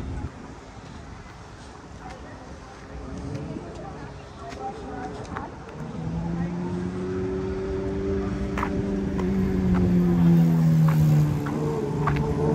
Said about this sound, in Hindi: यहाँ पर ट्रैफिक बहुत है डाउनटाउन में